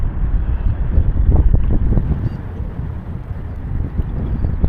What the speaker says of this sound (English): Not much I can do but hope for this wind to die down.